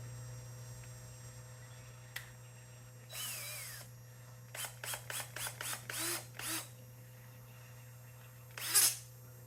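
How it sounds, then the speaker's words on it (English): A power drill whirs in short bursts: one longer run, then a quick string of brief pulses, and a final short spin near the end, with the drill twisting an extension cord's end. "Put your other end in a drill."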